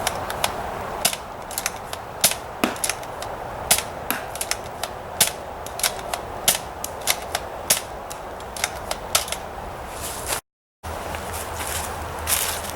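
A Nerf blaster fires darts at a box, giving sharp, close snaps and clicks in an irregular rapid series over a faint background hiss, with a short gap near the end.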